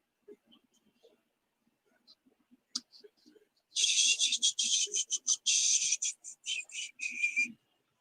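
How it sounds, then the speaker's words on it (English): A person whistles near the microphone, a run of bright, repeated tonal phrases lasting several seconds, with a few faint clicks and soft low sounds before it. "Sorry if I'm whistling in your ear."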